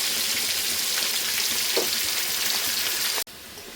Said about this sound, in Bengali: মাংস ভাজা তেলে আলুগুলো ভেজে নেব